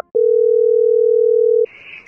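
A cell phone dial tone sounds as one loud, steady, unbroken tone for about a second and a half, then cuts off abruptly into faint hiss and a small electronic blip.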